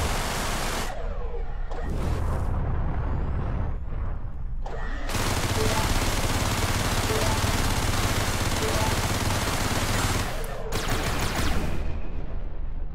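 Space-combat ship guns firing at a mineable asteroid in Everspace, a harsh noisy blast of sustained fire broken by short pauses, loud and close, with a brief lull before a long continuous burst.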